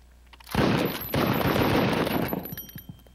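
Gunfire from the American Laser Games laserdisc shooter The Last Bounty Hunter: a dense, loud burst of rapid shots with a short break near the middle, then a trailing spatter of fainter pops.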